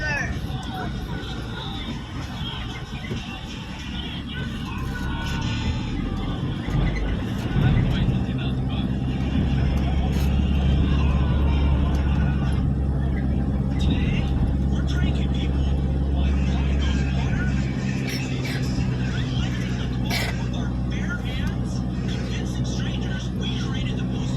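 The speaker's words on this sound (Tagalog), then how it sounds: "Ang dami na rin talaga ditong sasakyan sa probinsya namin" Road traffic streams through a busy provincial area on a Sunday, with cars droning past in a continuous low rumble that swells midway, heard under people talking.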